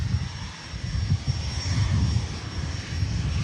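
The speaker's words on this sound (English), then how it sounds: "This is jet touching down." A jet airliner touching down on the runway at Manchester Airport, a steady, broad engine roar with a heavy low rumble that holds close and loud throughout.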